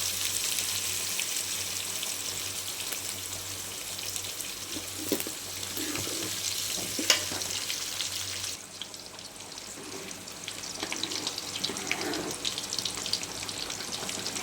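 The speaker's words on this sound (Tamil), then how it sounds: "இப்படியே கொதிக்கட்டும்" A steady bubbling and sizzling hiss of lentil dumpling curry simmering in a pan over a medium flame, continuous and close, with faint clinks and stirring sounds.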